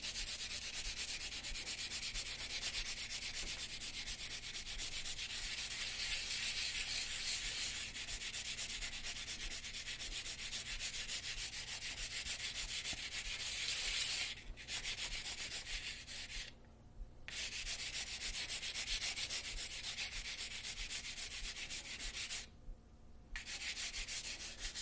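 A graphite pencil point rubbed back and forth on sandpaper, a steady close, quiet gritty scraping that continues almost without pause, broken by two brief stops.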